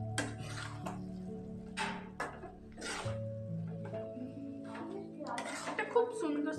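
Chowmein being stirred in a pan, heard as intermittent metallic clinks and scrapes of a utensil against the pan, with a voice talking throughout.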